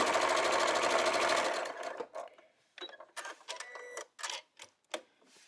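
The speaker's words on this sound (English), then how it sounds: "I'm just going to put my foot down, and I'm just going to stitch them together" A sewing machine runs fast and steady while stitching quilt blocks together, a dense rapid needle chatter for about a second and a half before it stops, followed by a series of softer separate clicks and clunks of handling.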